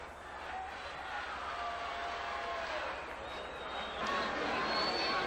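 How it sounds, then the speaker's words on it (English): Crowd at a high school baseball playoff game in a stadium doing the wave, a steady wash of distant cheering and chatter that swells slightly toward the end. "Crowd doing the wave."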